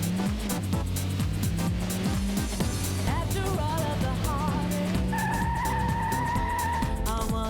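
Tyres squeal as a car skids on its e-brake in a retro racing video game, engine drone steady underneath with game music and effects throughout; a voice talks over it.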